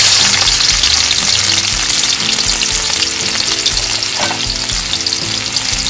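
Onions dropped into hot oil in a kadhai for a mixed vegetable dish: loud, dense, continuous frying sizzle close up, with occasional soft knocks underneath.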